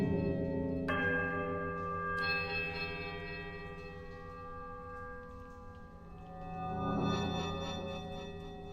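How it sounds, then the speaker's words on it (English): Bells chimed in the Pillars of Eternity video game: a bright struck bell tone rings out near the start, a second strike follows, and both fade as long sustained ringing tones with a soft swell near the end, no talk. "I just randomly chimed the bells"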